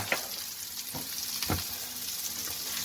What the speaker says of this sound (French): le contour de la truite commence à cuire